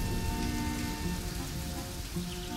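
Steady rain pours down throughout, a dense even hiss with soft tonal music lines running beneath it.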